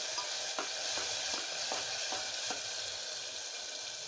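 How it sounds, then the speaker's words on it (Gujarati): Chopped onion, chillies and tomatoes are stirred in a pan over a constant sizzling hiss, with a regular series of soft scraping strokes about every half second, fairly quiet and steady, no voices. "આ ડુંગળી, મરચાં અને ટામેટાં સમારેલા નાખીશું. સારી રીતે મિક્સ કરી લઈશું."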